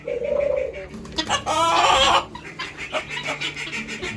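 Birds chirp and coo in a lively chorus at a zoo in Lviv, with a denser burst of calls in the middle and scattered chirps continuing afterward.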